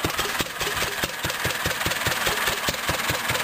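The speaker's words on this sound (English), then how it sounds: "The serial number chart says this engine is a 1930." A 1930 Fairbanks Morse stationary engine runs steadily nearby, its regular low thumping firing beats repeating about four times per second over a continuous mechanical clatter.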